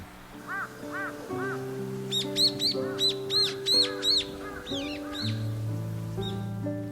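Crows caw in a garden in a remote Jirisan mountain valley: a few softer calls, then a quick run of loud, harsh caws, heard over a steady sustained musical drone.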